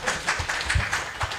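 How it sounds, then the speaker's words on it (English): A crowd applauds Police Assistant Commissioner Paul Nyathi, a brief burst of scattered hand clapping at moderate loudness with no voices over it. "A round of applause for him"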